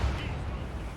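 A ship's cannon fires in a video game: one deep, heavy boom at the very start, then a low rumble that lingers and fades over about a second.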